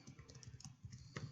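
Soft, quick keystrokes on a computer keyboard while writing code, faint and close, with no voices.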